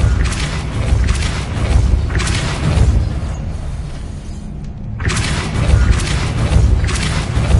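A Depulso force spell cast in the Hogwarts Legacy video game, heard as a series of loud, heavy booming bursts that swell and fade repeatedly, with a brief quieter lull before the rumbling blasts return.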